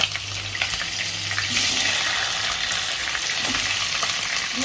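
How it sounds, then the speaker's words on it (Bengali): Pieces of pointed gourd go into a hot pan over already fried tempering spices, setting off a steady, close, hissing sizzle that swells slightly and holds without pause, with no talking. "ফোড়নগুলো সব ভাজা হয়ে গেছে, আমি তাই পটলগুলোকে ছেড়ে দিলাম।"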